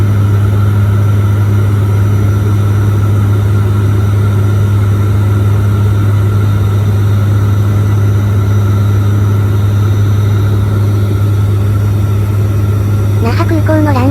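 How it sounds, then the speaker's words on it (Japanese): Inside a small airliner cabin descending toward Naha Airport runway 36, a loud, constant engine drone with a steady low propeller hum fills the space, with a brief voice near the end. "那覇空港のランウェイ36に着陸します。"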